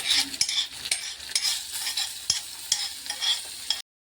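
Crushed green chillies and onion frying in oil for Maharashtrian kat vada, a close sizzle broken by sharp, irregular spatula scrapes and taps against the pan, ending abruptly in silence.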